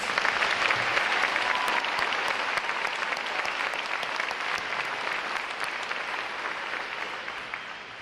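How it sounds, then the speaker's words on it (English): A crowd applauds steadily for award winners at a U.S. Navy boot camp graduation, dense clapping at a moderate distance that holds for several seconds and slowly tapers off. "Let's give another round of applause for the outstanding award winners."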